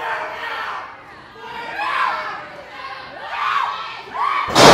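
Wrestling crowd at an indoor ACW show shrieking and cheering in high-pitched waves after a suplex, several swells of loud screeches rising and falling, ending in a sudden burst of noise.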